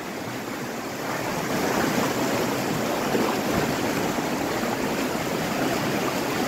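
Loud, continuous rush of fast-moving floodwater in Phuket Town, a dense roaring wash that holds steady throughout.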